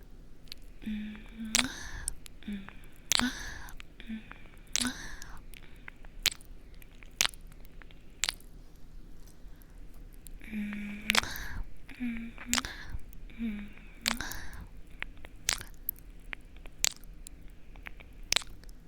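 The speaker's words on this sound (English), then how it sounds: "soft kisses sound like this." Soft kissing mouth sounds recorded very close for ASMR: gentle, wet smacks and squishes in loose clusters, with a quiet voice murmuring between them.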